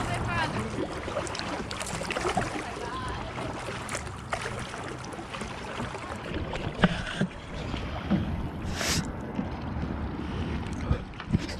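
Kayak paddling on the Northwest River, with water splashes and dips from the paddles amid wind buffeting the microphone, while people talk nearby throughout.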